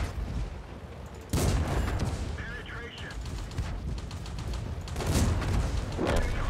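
Tank cannon fire in the World of Tanks video game: sharp booming shots at about 1.3 and 5 seconds over continuous engine rumble and game noise, loud and close.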